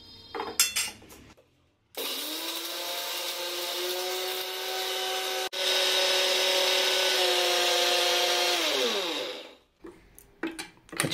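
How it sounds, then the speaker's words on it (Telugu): A kitchen mixer grinder whirs steadily for several seconds, grinding fried ingredients for a korramenu fish pickle. The motor pitch rises once, then winds down, with short clatters before and after. "ఇప్పుడు ఇవి మిక్సీ పట్టేసుకోవాలి."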